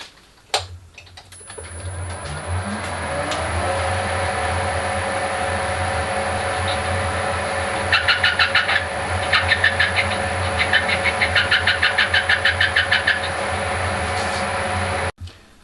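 A metal lathe turns a 1/4 inch bar down to 5mm, a steady machine whine and low motor hum running throughout, with bursts of rapid chattering cutting noise partway through before the machine stops abruptly.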